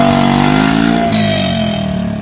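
A CVT scooter or motorcycle fitted with a Bobokan Hiung MP7-regulation exhaust runs at a loud, sustained engine note, droning steadily up close and easing slightly toward the end.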